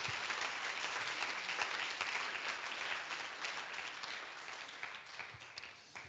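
Audience applause after a lightning talk at the lernOS Convention 2022, a dense, steady wash of many hands clapping that holds throughout and tapers slightly toward the end.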